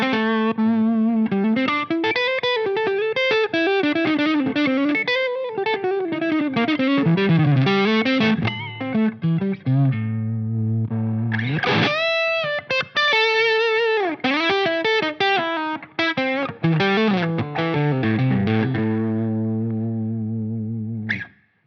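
Electric guitar driven through a Line 6 Helix preamp block used as an overdrive gives a loud, gritty, distorted tone. Chords and riffs play continuously with short breaks, with no talking.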